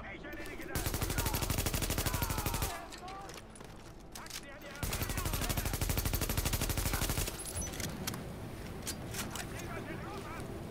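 Sustained automatic weapon fire from Tom Clancy's The Division comes in two long, loud rattling bursts. Between them there are quieter pauses and in-game sounds, and a voice speaks.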